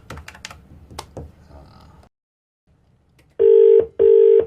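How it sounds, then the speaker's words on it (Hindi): Phone keys click in a quick irregular cluster for a radio prank call, then after a brief silence two long, loud ringing tones sound in succession. "फोन मिलाओ"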